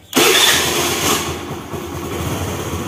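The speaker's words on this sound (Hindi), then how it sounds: "अब करो स्टार्ट" A Honda Activa scooter's engine starts with a sudden loud burst, then settles into a steady, close idling hum that continues to the end without any voices.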